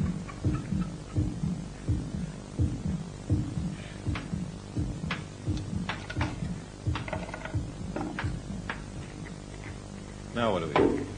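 A human heartbeat throbs in a steady, repeating rhythm of soft low thumps over a constant low hum, continuing evenly for about eleven seconds.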